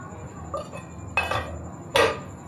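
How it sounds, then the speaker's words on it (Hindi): A metal cooking pot being scraped clean of rice while making white chicken yakhni pulao, giving three short separate metallic scrapes and clinks, close and clear over quiet background. "हम चावल अच्छी तरह से साफ़ कर लेंगे बर्तन में ताकि हमारा एक भी जो चावल का दाना है वो ज़ाया ना जाए"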